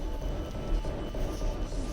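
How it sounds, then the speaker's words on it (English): An automatic subway train pulls into York Central station, a steady low rumble with rhythmic wheel and car noise under a faint hum, close and continuous. "Now the trains are arriving at York Central, guys."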